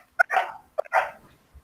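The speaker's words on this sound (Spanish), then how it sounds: "Estoy escuchando un perrito." Two short yips from a small dog come through an open microphone during a lecture, each a quick sharp double bark, fairly close and clear, with near silence between them.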